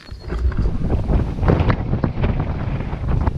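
Strong wind rushes and buffets against the microphone on a foggy hilltop during a packrafting trip, a loud, continuous roar with gusty swells and no voices.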